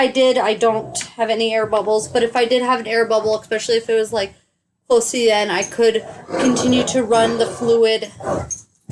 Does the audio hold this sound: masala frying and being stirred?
no